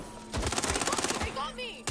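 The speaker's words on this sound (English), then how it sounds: "recruiting this person with the Silence SMG was pretty handy. Because it's pretty effective at murdering people" Rapid suppressed SMG fire in Watch Dogs Legion comes as a quick rhythmic burst of muffled shots, fairly close, followed by brief game sounds.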